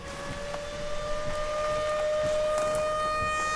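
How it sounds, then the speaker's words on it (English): A tornado warning siren wails steadily outside a car during a storm, its sustained tone swelling slightly louder over a background of rain and road rumble. "I hear the sirens going off right now"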